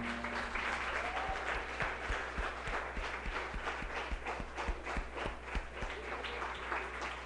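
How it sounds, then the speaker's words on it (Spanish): A church congregation gives a sustained round of applause as an offering during a service, many hands clapping in a dense wash with a steady rhythmic beat, heard at a distance. "Yo quisiera que levantáramos una ofrenda de palmas para el Señor."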